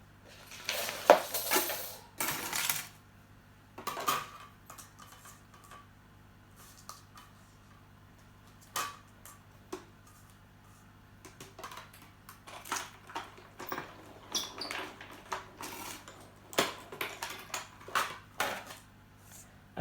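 Small fabric pieces being cut for a paper-pieced quilt, heard as a long run of soft, close, irregular snips and light taps with short pauses between them, and no voice.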